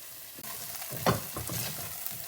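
Ginger paste frying in a pan while drumsticks and cashew nut curry is cooked, a steady close sizzle broken by scraping stirs of a spoon, with one sharper clatter near the middle.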